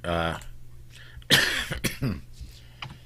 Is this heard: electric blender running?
no